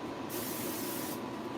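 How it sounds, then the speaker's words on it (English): A single aerosol burst of Sebastian Shaper hairspray misted onto a client's hair in a salon, a steady close hiss lasting about a second before cutting off. "we're gonna just spray her with a little bit of Sebastian Shaper"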